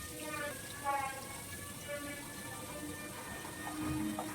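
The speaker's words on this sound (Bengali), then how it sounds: "খুব জোরে বৃষ্টি এসেছে" Heavy rain pours down in a steady, dense hiss that fills the whole stretch at an even level, with a faint voice murmuring somewhere in the background.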